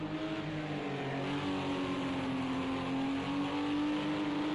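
Race cars battling on the last lap in a racing video game, a steady droning engine note held near constant with faint overlapping engine hum behind it.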